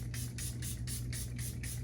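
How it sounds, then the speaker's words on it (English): One Size Powder Melt setting spray is misted in a rapid run of about seven short, close hissing bursts over a low steady hum. "So I'm just gonna go ahead and spray this one on first."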